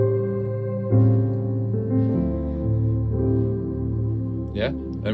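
Piano playing a dominant seventh chord with a sharp 5 and sharp 9, sustained chord tones moving through a couple of voicings up close, with a brief soft voice near the end.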